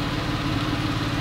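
A Porsche 911 Carrera S engine idles with a low, steady hum and even mid-range tone, close and unbroken for a moment, with no talking.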